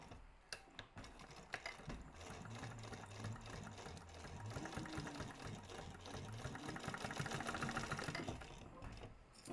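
A sewing machine stitches a Taymor crossbody bag, its needle chattering in a fast, steady mechanical rhythm that speeds up and slows in bursts, close and clear with no talking.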